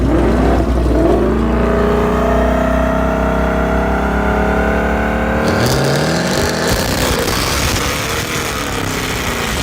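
A car engine revs loudly in a shop, holding a high, sustained roar that shifts pitch midway into a rougher, noisier blare.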